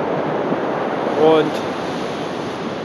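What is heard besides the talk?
sea surf breaking on the Sicilian coast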